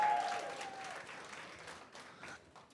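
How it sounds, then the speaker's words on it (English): Clapping from an audience at an awards ceremony fades from a louder start into a thinning patter of scattered claps, fairly faint and diffuse in a large room. "I don't know if you're clapping for them or for me"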